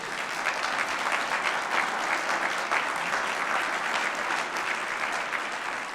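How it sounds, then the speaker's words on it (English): Steady, full applause from a crowd, dense clapping that continues without a break throughout. "Ladies and gentlemen, round of applause for Danielle Grant"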